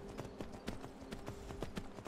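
Rhythmic hoof clip-clops from a trotting horse in the video game Skyrim, steady and fairly close, repeating evenly over a faint constant hum.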